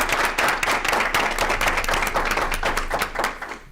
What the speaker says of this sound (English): join me in giving a round of applause for Mrs. Lorraine Giorgino.